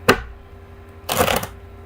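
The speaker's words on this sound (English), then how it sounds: "Why do they not want to shuffle?" Tarot cards being shuffled: a short riffle burst at the start, then a longer riffling flurry after a pause, close and fairly loud.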